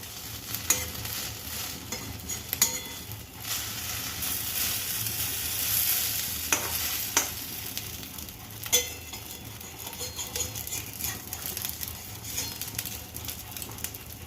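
An egg omelette sizzles and fries in a pan, with steady crackling and brief scraping and clinking as it is stirred and folded over, close and fairly loud with no talking.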